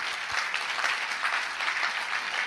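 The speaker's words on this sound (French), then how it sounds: "on peut applaudir." A crowd at a Paris municipal campaign launch rally applauds, a thick, steady wash of clapping filling the whole clip at even loudness.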